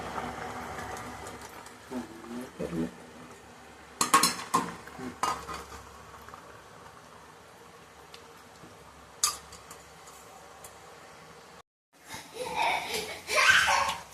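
Soaked dry fish being stirred in a cooking pot for a Chennai-style seela dry fish kuzhambu, with intermittent scraping and clinking of a utensil against metal, some louder knocks, and quiet gaps between bursts of stirring.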